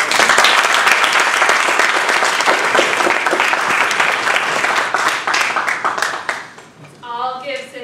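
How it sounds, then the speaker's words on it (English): Applause from the audience at a Toastmasters humorous speech contest, a loud, sustained crowd clapping that gradually thins, ending with a voice speaking over the last scattered claps. "I'll give Cynthia a round of applause"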